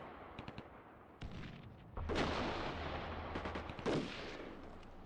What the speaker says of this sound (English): Did you just fire rockets at their infantry?